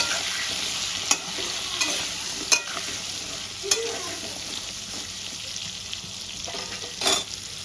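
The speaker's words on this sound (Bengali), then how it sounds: "এবার পটলগুলো আমি লাল করে ভেজে তুলে নেব।" Cubed pointed gourd (potol) with salt and turmeric frying in oil, a continuous crackling sizzle broken by several sharp spatula scrapes and taps spaced a second or so apart, with no voices.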